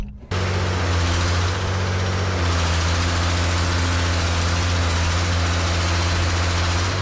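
A diesel engine on a scrap excavator under restoration, starting up and then idling, with a steady low rumble that runs close and loud throughout.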